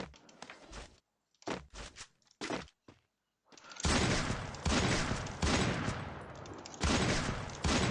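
Bursts of gunfire from the battle-royale video game Free Fire, short scattered shots and footstep-like thuds giving way to loud, sustained rapid automatic fire in dense volleys with brief gaps.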